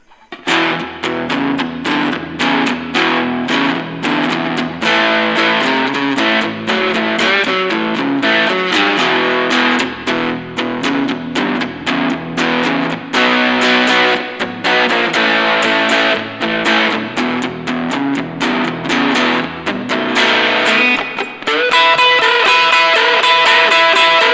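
Electric guitar played through a Melonare MA-1 10W Bluetooth mini practice amp with its overdrive engaged at the noon setting, giving a loud, steady run of distorted strummed chords and picked notes with no talking.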